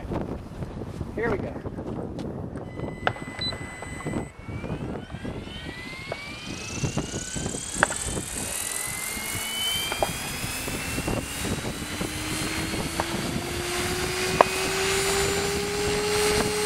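A Protos flybarless radio-controlled model helicopter flies on a windy day, its rotor and motor whine rising steadily in pitch as it spools up, sustained and fairly close, with gusty wind noise and a person talking intermittently underneath.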